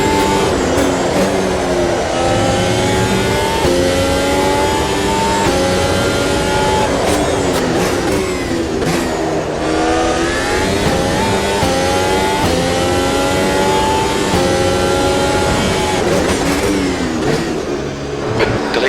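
Race car engine screaming through a hot lap at Imola in the Automobilista 2 sim, loud and continuous with rising and falling revs through gear changes and corners, no voices.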